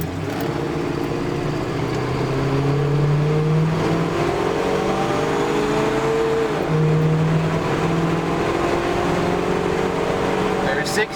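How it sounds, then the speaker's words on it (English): Budget sleeper car with an Edelbrock carburetor accelerates hard from a dead stop, its engine roaring loudly and climbing in pitch through gear changes across the run. "Let's punch it from a dead stop."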